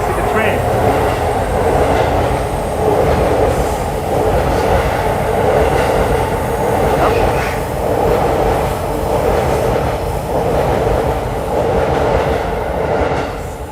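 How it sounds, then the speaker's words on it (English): Train rolling past in Akihabara, Tokyo, a loud steady rumble with rhythmic clickety-clack of wheels throughout, close by. "the actual trains will run through, so you can see the train"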